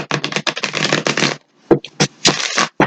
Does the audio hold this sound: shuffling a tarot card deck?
yes